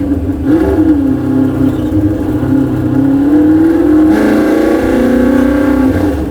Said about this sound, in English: I can't believe that the car sounds better now than it did before.